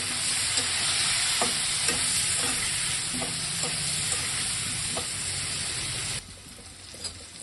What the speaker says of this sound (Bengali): আর এই চিংড়ি মাছটা তেলটার মধ্যে আমি একটু পটল আর আলুগুলো একটু ভেজে নেবো।